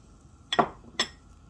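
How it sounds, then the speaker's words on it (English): Chopped onion tipped into a pan of hot extra virgin olive oil, heard as two brief clattering bursts a half second apart against a quiet background, with no voices. "I'm just gonna tip the onion in there"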